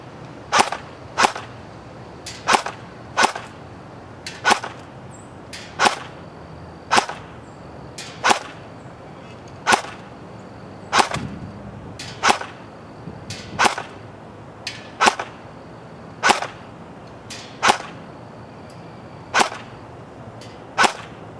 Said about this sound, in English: So let's see what we can do here with the RPK.